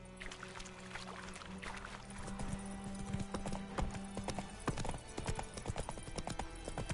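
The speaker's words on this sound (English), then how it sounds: "Not so fast, Roach" Hooves of the horse Roach clip-clop steadily at close range in The Witcher 3 on PS5, a quick rhythmic patter running throughout with a brief whinny, no talking over it.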